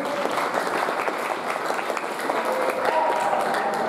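Audience clapping at an Islamic school seminar on cleanliness, a steady wash of many hands close by, with voices talking beneath the applause.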